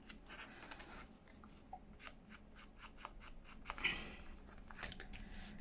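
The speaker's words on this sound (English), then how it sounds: "I'll just rip that a little bit because it looks" Paper being torn by hand during a junk journal crafting session, heard as a series of faint, quick crackling rips and rustles, close and quiet with no talking.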